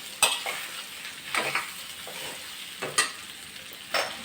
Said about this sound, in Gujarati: સરસ હલાવી લઈશું.